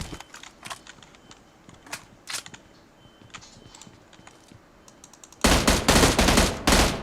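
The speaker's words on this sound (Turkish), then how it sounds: "Ha ben birini daha vurdum ha sakin." Gunfire in PUBG Mobile: scattered single shots at first, then a loud, dense burst of rapid automatic fire near the end.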